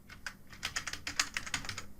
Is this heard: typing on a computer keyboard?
yes